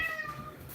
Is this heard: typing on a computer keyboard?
no